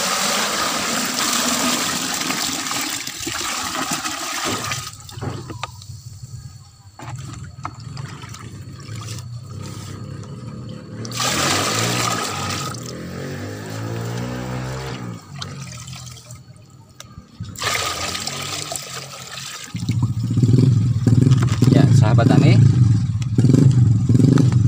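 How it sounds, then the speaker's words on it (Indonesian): Coconut water being poured into a container for a soil fertilizer mix, a steady, close, rushing pour that runs through most of the stretch, with someone talking over it. "kita masukkan dulu air kelapanya"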